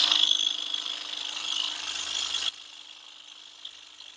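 A scroll saw with a spiral blade cuts through wood, giving a steady, close, buzzing whine for about two and a half seconds before it abruptly stops and a quieter background hum remains.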